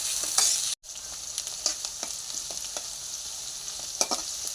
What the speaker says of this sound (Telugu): ఉల్లిపాయలు బాగా ఫ్రై అవ్వాలండి, కొంచెం గోల్డ్ కలర్ వచ్చేదాకా ఫ్రై చేసుకుందాం.